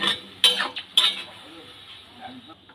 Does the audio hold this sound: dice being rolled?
no